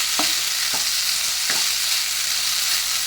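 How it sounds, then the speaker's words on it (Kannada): Washed rice frying in a pan for palav with methi leaves, a steady close sizzle broken by a few soft scraping stirs, with no voices. "ಅಕ್ಕಿಯನ್ನು ತೊಳೆದು ಅಕ್ಕಿಯನ್ನು ಒಂದು ಅರ್ಧ ನಿಮಿಷ ಹುರಿದುಕೊಳ್ಳಿ"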